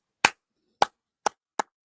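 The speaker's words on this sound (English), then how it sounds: "I gotta clap it up on that one." Five sharp, isolated hand claps ring out at a slightly uneven pace, close and crisp against complete silence, each snapping off quickly.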